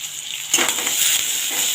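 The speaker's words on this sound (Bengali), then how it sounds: "বেগুনটা লাল করে ভেজে নিব।" Eggplant frying in a pan, a steady bright sizzle that swells and crackles after a quieter start, close and continuous.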